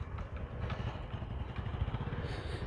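A motorbike's engine runs steadily up close, loud and rumbling with some clatter, while the bike is pushed up out of a low spot near date palm trees in farmland.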